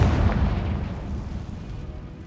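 An explosive blasting spell going off in the wizarding game Hogwarts Legacy, a deep heavy boom at the start that rolls off into a long fading rumble, loud and alone.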